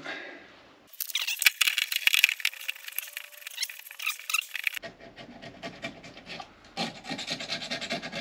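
Rubbing and rasping as wood shavings and residue are cleaned off a workpiece with a splash of petrol, in busy scraping strokes, a short pause, then more steady rubbing close to the microphone.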